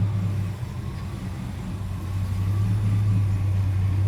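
An old Pontiac engine runs on the fuel left in its carburetor, a steady low rumbling idle that stays loud and close and swells a little toward the end, with no talk over it.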